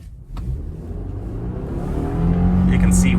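A 2024 Subaru Forester Wilderness driving at full throttle through deep snow, its engine droning and climbing steadily in pitch under rushing road and wind noise.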